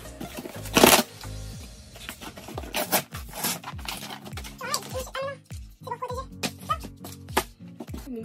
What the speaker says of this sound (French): Je suis en train de galérer là que pour ouvrir le carton.